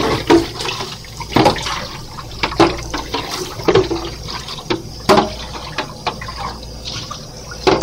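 Water splashes and runs while the base of a Petmate pet water fountain is rinsed, with irregular sloshing bursts and drips over a steady flow background.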